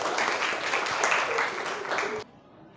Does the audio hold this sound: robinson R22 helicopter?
no